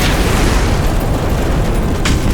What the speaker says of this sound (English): They then use some of their liquid explosives to blow a hole in the area where there already was a hole at.